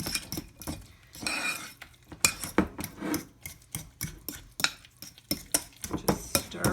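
Deviled egg filling is stirred in a bowl with a utensil, producing rhythmic scraping and clinking strokes, close and moderately quiet, repeating steadily.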